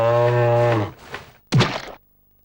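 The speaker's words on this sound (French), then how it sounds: "Mais une vache passe par là." A cow moos once in a long, loud, steady low call, followed by a softer rumble and then a sharp thudding knock before everything falls silent.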